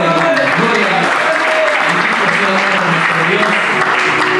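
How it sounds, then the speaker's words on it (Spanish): A church congregation at a live worship service claps along loudly and continuously, the dense clapping filling the whole stretch with some voices mixed in. "Dale palmas al que todo lo pueda, hermano."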